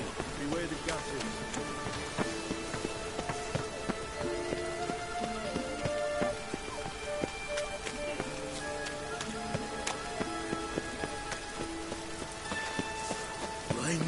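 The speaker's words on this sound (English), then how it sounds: "Rain was coming." Rain in The Witcher III video game, a continuous hiss of drops pattering on surfaces, mixed with soft melodic game music and faint background voices throughout.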